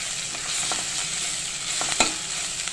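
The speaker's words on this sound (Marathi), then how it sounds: "तर हे पहा आपण असं आलं लसूण पेस्ट छानपैकी खरपूस परतून घेणार आहे" Ginger garlic paste fries in hot oil with curry leaves and mustard seeds while being stirred, a continuous close sizzle with brief scraping and stirring clicks and no voices.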